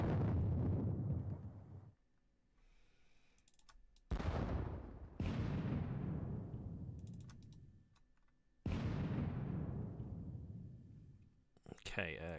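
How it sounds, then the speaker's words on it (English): Heavy artillery cannon fire in a strategy game battle at Vienna, four deep booming blasts, each with a long rumbling decay, separated by quiet gaps, with faint clicks between them. "We want to fire as much artillery at these as possible."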